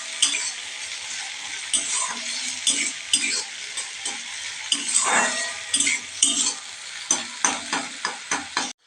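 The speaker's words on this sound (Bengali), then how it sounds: "পেঁয়াজ লঙ্কাটা একটু লালচে করে ভেজে নিতে হবে।" Onion and chilli sizzle in a pan while a utensil stirs and scrapes them, giving repeated rhythmic clinks and scrapes over a continuous frying hiss, with no talking.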